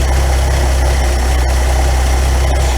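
A car engine idling after intake and exhaust work with gasket sealer, a loud, close, steady rumble with a deep low hum and even vibration throughout, no talking.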